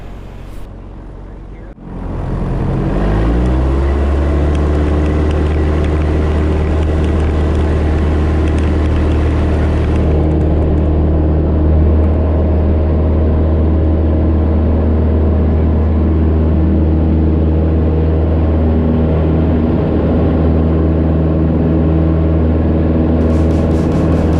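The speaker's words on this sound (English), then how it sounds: "Run-up checks complete and we taxied out to runway 26 for takeoff to San Diego." Small light aircraft engine at Camarillo airport, starting up loud and steady as the plane taxis out toward runway 26 for takeoff, a continuous drone with prominent harmonic tones throughout.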